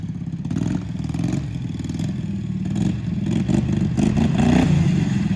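A 16 hp V-twin engine on a home-built racing lawn mower runs loud and close as the mower is driven, with a rough, clattering drone that rises and falls as the throttle changes.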